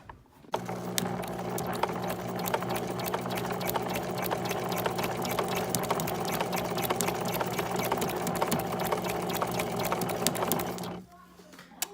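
Domestic sewing machine running a continuous satin stitch at a widened stitch width, forming costume lettering; a steady, close mechanical whir with rapid needle ticks holds for about ten seconds, then stops, with no talking.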